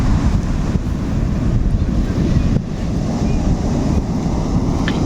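Ocean waves surge and crash on the shore in a steady, loud broadband roar, with wind buffeting the microphone throughout and a brief dip as one wave recedes.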